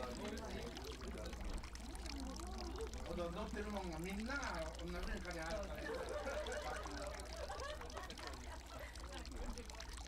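Water pouring and trickling steadily into a basin filled to the brim beside a dining room, faint and continuous, with a voice speaking over the gentle flow.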